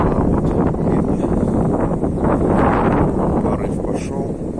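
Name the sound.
wind gust blowing on homemade solar tracker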